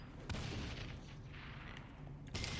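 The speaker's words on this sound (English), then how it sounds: "just keep chucking those grenades at these fences" Grenades thrown at fences in Saints Row The Third explode in two sharp bursts, one near the start and one near the end, over a steady low rumble of game noise.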